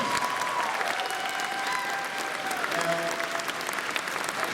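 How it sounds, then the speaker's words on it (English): Convention audience at a closing ceremony applauding themselves, a dense sustained roar of clapping with cheering mixed in, steady and loud throughout, with faint tonal whistles or calls rising above the crowd. "Please give yourselves a huge round of applause"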